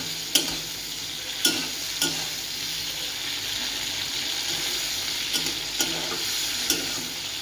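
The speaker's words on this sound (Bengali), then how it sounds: "চিংড়ি মাছ বেশি ভাজতে লাগে না, হালকা করে ভেজে তুলে রেখে দেবো।" Prawns lightly frying in oil in a pan, a continuous close sizzle broken by several sharp stirring clacks spaced irregularly, no voices.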